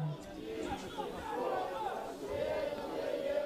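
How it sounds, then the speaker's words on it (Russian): Football supporters in the stands chant a new song together, a crowd of voices rising and sustained at a distance, with a commentator talking over them. "Затягивают болельщики новый чант, который только для этого матча подходит"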